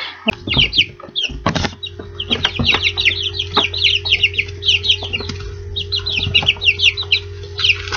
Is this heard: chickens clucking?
yes